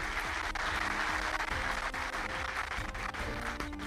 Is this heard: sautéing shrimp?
no